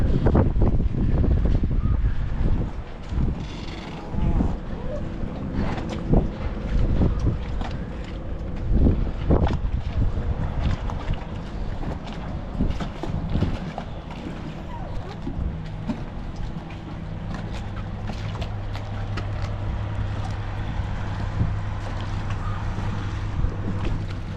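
Quadra Island ferry engine rumble and water sounds near Quathiaski Cove, Campbell River, with gusty wind buffeting the microphone, a low steady drone continuing beneath the noise.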